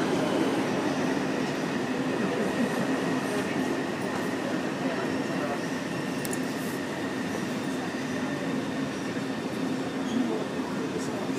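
Taipei Metro C381 train, cars 523/524, running underground between Shilin and Zhongshan toward Daan. It makes a steady, continuous rumble with faint wheel clicks and hum throughout.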